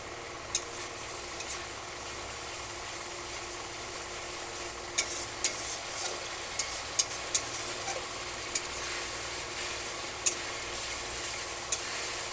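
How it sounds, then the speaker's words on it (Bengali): Tomato paste for a fish curry fries on a high flame, making a soft continuous sizzle with occasional small ticks and pops, heard close and fairly quiet. "টমেটো বাটাটা দিয়ে গ্যাসটা একটু হাই ফ্লেমে দিয়ে 2-3 মিনিট ধরে কষিয়ে নেবে"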